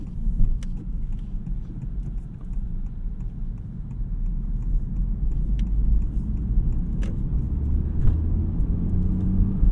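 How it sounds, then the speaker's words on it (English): A 2023 Honda Civic Type R on the move, its exhaust giving a steady, deep rumble with constant road and engine drone throughout, close and continuous with no talk over it. "the way this exhaust is set up, I think it sounds really good. It's rumbly."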